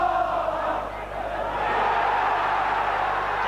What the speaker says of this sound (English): Carter receives the applause for his defensive work